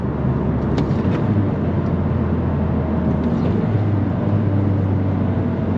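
A Mazdaspeed 3's turbocharged engine drones steadily from inside the cabin with a broad, even roar and a few brief faint whistles from the turbo.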